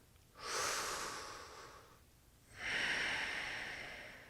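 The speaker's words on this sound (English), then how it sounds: "So a couple breaths here, really allowing the hamstring to release." Two slow, deep breaths drawn during a hamstring stretch, each a long airy rush lasting about two seconds, close to the mic with a short pause between and no talking.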